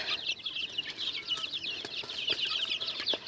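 Cochin and crossbred chickens cluck and peep in a dense, continuous chatter, many birds calling at once at moderate distance.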